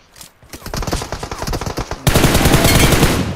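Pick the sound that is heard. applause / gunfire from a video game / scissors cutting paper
gunfire from a video game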